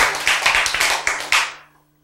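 Hand clapping during a Korean talk: about seven sharp, fairly quick claps close by, then a short decaying room tail and silence, with a faint steady hum underneath.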